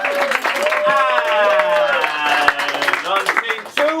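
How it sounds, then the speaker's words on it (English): A game show studio audience claps and cheers as contestants are introduced, with a dense burst of applause and excited vocal whoops that tails off into scattered claps. "Let's have a round of applause for Sarah and Steve"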